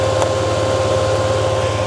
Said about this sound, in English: Okay, the bike is finally idling.